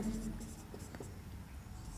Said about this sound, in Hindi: और लिखता हूँ लता इज ए ऑनेस्ट